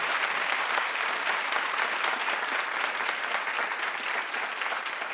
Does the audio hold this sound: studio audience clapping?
yes